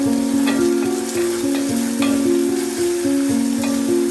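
Black peppercorns sizzling in hot oil in a pan for onion rasam, a continuous close sizzle with a steady tonal hum beneath and periodic stirring scrapes, no one speaking.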